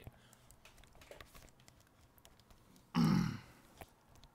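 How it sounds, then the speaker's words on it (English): A short, loud burp erupts alone after a quiet stretch, dense and low, lasting about half a second, followed by a faint tap, while someone plays a scary video game. "Burp."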